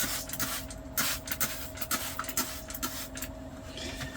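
Cleaning solution misted from a spray bottle onto a messy electric kitchen surface aboard a sailboat, giving several short, close hissing bursts at an uneven rhythm over a steady low background hum.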